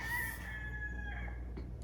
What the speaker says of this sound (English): if you hear roosters crow,